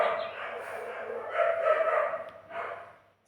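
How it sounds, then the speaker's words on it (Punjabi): A dog barks and yips a few times in short bursts, fairly quiet and slightly distant, tapering off at the end. "ਸਾਡੇ ਕੁੱਤੇ ਸਿਰ ਖਾਂਦੇ ਬਹੁਤ ਜ਼ਿਆਦਾ ਦਿਮਾਗ ਖਾਂਦੇ ਬਹੁਤ ਭੌਂਕਦੇ"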